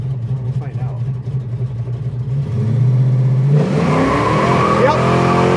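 A 600hp 1973 Dodge Challenger idles with a loud low rumble, then accelerates hard in drive, the engine roar climbing in pitch with a whine and possible tire squeal close by.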